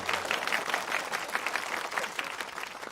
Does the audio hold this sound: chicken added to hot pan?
no